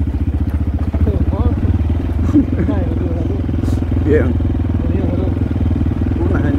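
A motorcycle engine idles close by with a rapid, steady rhythmic putter, while people talk over it and a short spoken word comes through.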